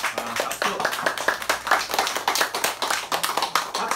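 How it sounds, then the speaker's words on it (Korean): Audience at a lecture hall talk gives a round of applause: a dense, steady patter of many hands clapping close by for about four seconds, with no talk over it. "예, 박수."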